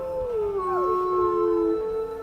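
A pack of wolves howls close by in long, melodic, gliding tones, several voices overlapping and rising and falling together without a break.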